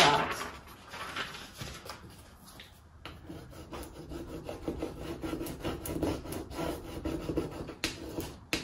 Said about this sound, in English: I have already scraped some of the transfer onto the mirror